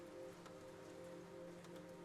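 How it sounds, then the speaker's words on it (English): Soft, steady rain falls on leaves beneath trees at the edge of a meadow, a faint continuous patter over a low, constant hum. "The rain hitting leaves creates an entirely new layer of rhythm."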